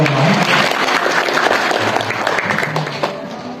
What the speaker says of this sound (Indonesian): terima kasih tepuk tangan untuk kita semua